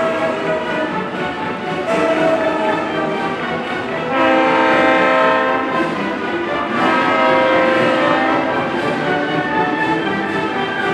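A steam locomotive at a Mexican national railway museum sounds its whistle in a sequence of loud, sustained tonal blasts, signals once used like Morse code between engineers and the station, ringing out with train noise around them.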